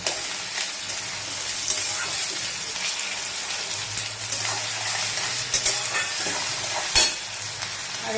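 Tomato and onion frying with salt in a pan, a steady close sizzle with scraping stirs and occasional clinks of the spoon against the pan.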